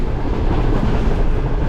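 The Karakoram Express passenger train runs between Karachi and Lahore, a dense, steady rumble of rolling wheels and carriage noise heard from inside, loud and continuous.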